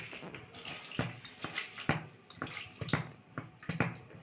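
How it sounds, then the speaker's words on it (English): Soaking water poured off sprouted seeds, splashing in irregular bursts with sharp clatters and trickles, fairly close and moderately loud, with no talking. "And now let's pour the water."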